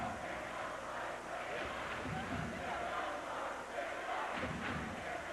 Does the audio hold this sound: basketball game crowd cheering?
yes